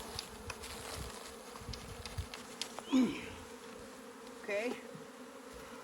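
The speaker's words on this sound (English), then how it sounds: "Look at this swarm box is full of bees. So what I'll do is now I'll just drop them all in there." An agitated honeybee swarm buzzes close by as the bees are shaken down into a swarm box, a dense hum with a few louder bursts as they fall, and someone speaks briefly.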